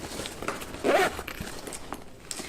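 A short zipper pull on an inside zipper pocket of a Ju-Ju-Be bag, one quick rasping stroke close by, with faint handling rustles before and after.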